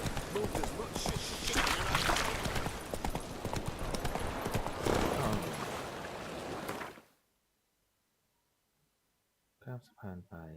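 Roach the horse gallops in The Witcher 3, with rapid, loud hoofbeats over about seven seconds that cut off abruptly into silence, followed by brief speech.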